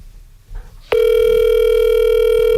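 A telephone rings in a live radio studio, starting with a sharp click and then a loud, steady, unbroken electronic tone after quieter low room noise, with no voices.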